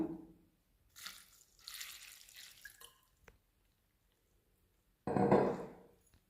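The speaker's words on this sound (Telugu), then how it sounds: "ఇప్పుడు వాటర్ పోసుకుందాము." Water is poured in splashing bursts over green chillies while gongura chutney is being prepared: two pours a few seconds apart, the second louder and fuller, with quiet gaps between.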